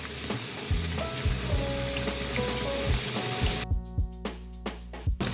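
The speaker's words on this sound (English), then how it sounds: "I'll go ahead and turn the water off" Tap water runs steadily into a film developing tank while E6 color positive film is rinsed, a continuous close splashing broken by sharp clicking handling noises toward the end.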